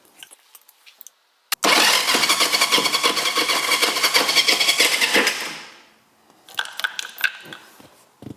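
Small engine cranked after choking roars into a loud, rapid sputtering run for about four seconds, then dies away and fails to catch, followed by faint clicks and clatter, close and with no talk.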